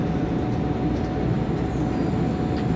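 Train running in Train Simulator 2020, a steady loud rumble of wheels and engine that continues unbroken throughout, with faint squeaks above it and no voices.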